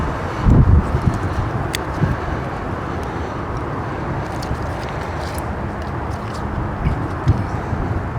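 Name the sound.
wind blowing outdoors in winter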